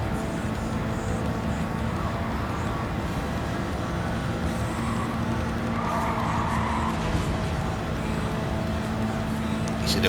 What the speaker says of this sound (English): See, the car is sliding more